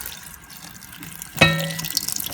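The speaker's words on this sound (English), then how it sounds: "now I've transferred my bundle to the sink, where I'm just very lightly dousing it with a little bit of cold" Cold tap water runs onto a steamed silk bundle in a sink: a soft background hiss, then a sudden splashing gush as the stream hits, continuing as close, steady running and spattering water.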